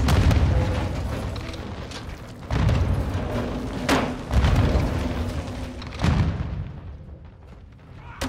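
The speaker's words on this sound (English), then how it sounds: "They're launching grenades!" Grenade explosions in Call of Duty Modern Warfare 2 combat, several deep booming blasts a couple of seconds apart, each with a rumbling tail, loud and close amid battlefield noise.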